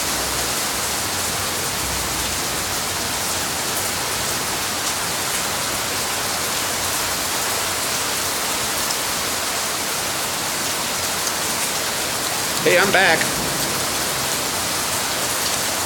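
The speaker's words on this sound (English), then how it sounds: "I come back out here and now it's raining crazy." Heavy rain from a strong thunderstorm in central Oklahoma pours steadily and loudly throughout, a dense continuous hiss of downpour, with someone briefly speaking near the end.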